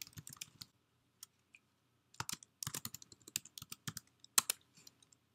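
Typing a full name on a computer keyboard while setting up a Mac Mail account: a few isolated keystrokes, a pause, then a quicker burst of sharp, close clicks with no speech.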